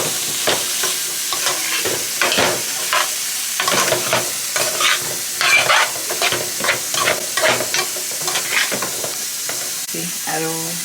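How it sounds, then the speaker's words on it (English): Onion and curry sizzling and frying in a pan with repeated stirring scrapes, a loud, close, continuous crackle punctuated by rhythmic bursts from the spoon, with no talking. "So now I'm just cooking out the onion, let the curry cook out"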